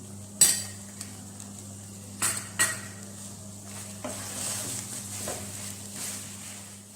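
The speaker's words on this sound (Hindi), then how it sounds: "और लास्ट में ऐड करेंगे चीज़ और अच्छी तरह मिक्स कर देंगे।" Chicken samosa filling with cheese being stirred in a pan: a few sharp spoon clanks against the metal, then steady scraping and mixing over a soft sizzle, close by.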